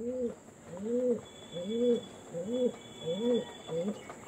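Chennai breed pigeons coo in a steady run of about seven soft, rhythmic two-part calls, close by, with a faint constant high-pitched hum in the background.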